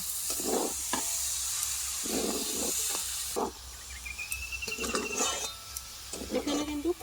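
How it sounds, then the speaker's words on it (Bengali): An amla pickle sweetened with cane jaggery is stirred in a pan: a low, hissing sizzle with repeated scraping strokes, quieter in the second half as the stirring continues in short, close bursts. "আমি এখানে আখের গুড়টাই দিয়েছি খুব ভালোভাবে এটা মিশিয়ে নেব"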